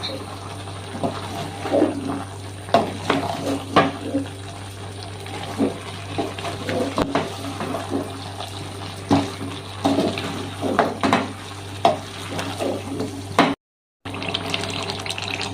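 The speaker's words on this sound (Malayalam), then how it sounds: "ഇനി ഇത് നമുക്ക് നാല് മിനിറ്റ് ഇളക്കിയെടുക്കാം" Pakistani dhaba-style chicken curry being stirred in a pan, repeated scraping and wet shuffling strokes in an uneven rhythm over a steady low hum, with a brief dropout near the end.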